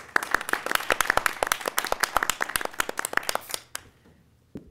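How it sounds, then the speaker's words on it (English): Audience clapping at a lunchtime talk, a modest group whose separate sharp hand claps are clearly distinct, fairly close, and trail off to silence near the end. "Please give her a round of applause."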